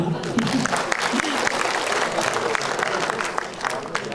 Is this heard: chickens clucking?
no